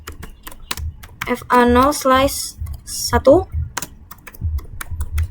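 Keys on a computer keyboard are tapped in quick bursts while show and switch commands are entered into a network switch CLI. The clicks are close and fairly loud, and a voice talks over parts of the typing.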